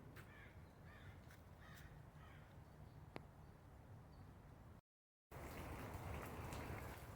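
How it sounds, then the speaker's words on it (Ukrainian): Steady, faint rain hisses in a botanical garden, with a few crow caws over it and a brief dropout near the end. "дощ"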